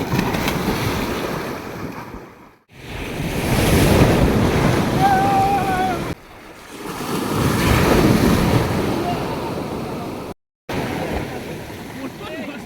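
Sea waves surge and break on an open sandy beach at Dublagadi, Balasore, rolling in two long swells with heavy wind buffeting the microphone and brief dropouts between them.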